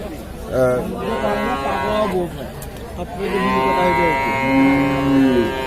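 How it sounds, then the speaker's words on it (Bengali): Sahiwal cattle low in long, drawn-out moos, two or three calls close by, with faint background noise of a busy outdoor livestock market. "আমরা ওই পাশে আরেকটি শাহিওয়াল গরু দেখছি"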